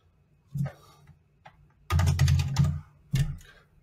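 Computer keyboard typing while entering text into a table cell in a real estate CRM content editor: a few separate key taps, then a dense burst of rapid clacking and one last strike, close and clear with no talk.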